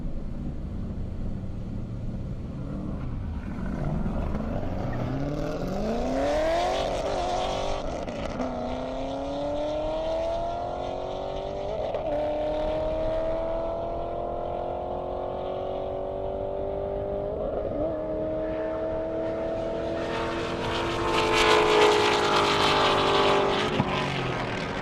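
A Corvette and a Roush Mustang drag racing on a half-mile airport airstrip, engines revving and rising in pitch through the gears, passing in the distance, with a loud close rumble swelling near the end.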